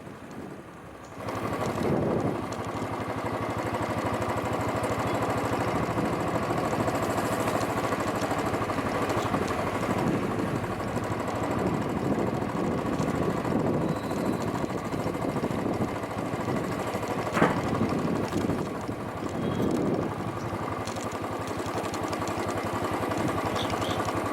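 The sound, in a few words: motorcycle engine while riding on rural roads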